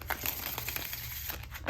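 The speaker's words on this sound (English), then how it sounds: "Let's give it one more good shuffle and then we will start." Tarot cards being shuffled by hand, a soft continuous papery riffling and crinkling close by at low volume, with no talking.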